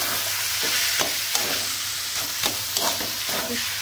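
Leafy greens stir-fried in a pan, with a loud constant sizzle and hiss, punctuated by several short scraping stirs of a spatula.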